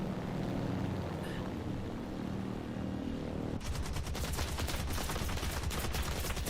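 Gunfire in a video game, first as a muffled rumble, then turning into a loud, rapid burst of repeated shots that runs steadily to the end.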